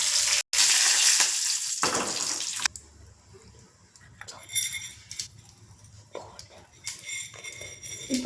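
Dried red chillies and curry leaves dropped into hot oil: a loud burst of sizzling and spitting for a couple of seconds that settles into a quieter crackle with light clinks of a spoon on the pan.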